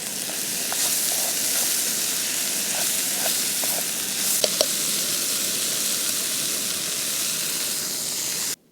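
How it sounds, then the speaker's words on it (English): Vegetables sautéing in a pan at an outdoor camp table, with a steady, close sizzle and hiss that runs the whole time, broken by a few faint clinks of a utensil. "Just gonna saute up some veggies."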